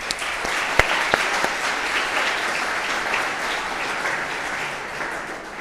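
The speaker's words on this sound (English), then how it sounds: "let's give them a round of applause to warm them up" A room full of audience members claps for panel speakers at a talk on ChatGPT and generative AI. The applause is sustained and fairly loud and dense, with a few sharper individual claps near the start, and it tapers slightly at the end.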